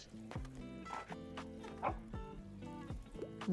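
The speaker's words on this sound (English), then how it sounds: "Let's pet the dog." A dog in the cozy game Tiny Bookshop lets out a string of short, bright yips and playful whimpers while being petted, close and soft over light background music.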